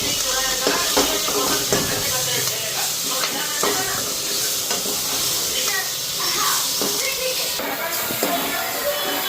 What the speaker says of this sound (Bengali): এদিকে নিম পাতা ভাজাটা বসায় দিচ্ছি, নিম পাতা পাত পাতা একলগে দিয়ে দিচ্ছি।